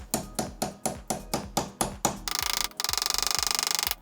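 Metal strikes from a hammer driving a steel sleeve pin into a worn transmission bolt hole: about seven sharp, evenly spaced blows, followed by a rapid buzzing rattle that stops briefly and then resumes.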